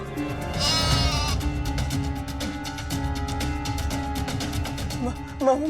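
A goat bleats loudly and close by in long, wavering calls over a steady background hum, with a short sharper sound at the end.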